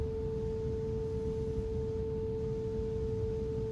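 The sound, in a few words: recorded tuning fork tone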